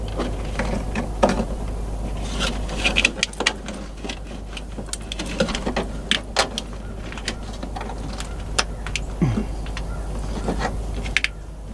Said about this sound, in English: You'll hear it pop and click.